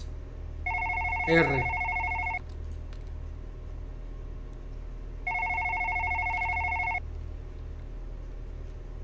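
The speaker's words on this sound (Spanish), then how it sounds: "Vale, suena un teléfono." A telephone in the horror game One Late Night rings in two long electronic bursts separated by a pause, with a low hum underneath and a brief voice between the rings.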